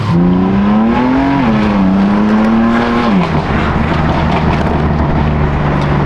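A BMW M4 Competition engine idles, then rises in a light rev blip to about 3,000 rpm, settles back and drops to a steady idle, loud and close.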